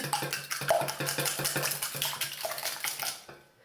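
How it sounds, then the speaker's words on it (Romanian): Four eggs with a pinch of salt beaten briskly in a bowl, a fast, even rhythm of whisk taps and clinks that is close and fairly quiet. "Am pregătit 4 ouă cu un praf de sare, le batem bine."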